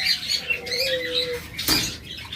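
A pair of lutino lovebirds, yellow with red eyes, chirps and calls close by, with a brief burst of wing flapping near the end.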